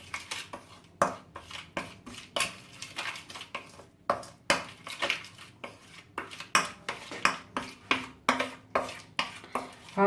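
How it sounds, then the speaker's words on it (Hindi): A spoon mixing chicken tikka marinade with a spoonful of oil in a bowl, close, irregular clinks and scrapes against the bowl repeating in quick bursts, with no talking. "अब इसे अच्छी तरीके से मिक्स कर लेंगे।"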